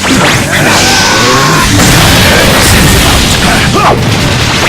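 A fire style jutsu attack in Naruto Shippuden: Ultimate Ninja Storm Revolution, a loud roaring blast with whooshing bursts and crashing hits that keep going without a break.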